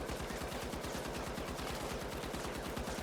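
M60 machine gun firing continuously in the shooter game The Finals, a dense rapid stream of gunfire bursts at steady rhythm, sustained and fairly quiet throughout with no talk.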